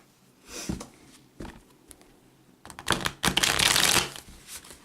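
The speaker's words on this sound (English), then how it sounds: "All right, so I'll shuffle up a couple times." Tarot cards riffle and snap in short bursts, a soft flutter early on, then a louder, longer shuffle near the end, with no talking.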